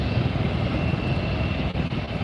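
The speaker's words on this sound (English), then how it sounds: "here's our next departure, JetBlue A320" A JetBlue Airbus A320-200 on departure from Fort Lauderdale, bound for Kingston, Jamaica: a loud, continuous jet roar close by, sustained through the brief moment without talk.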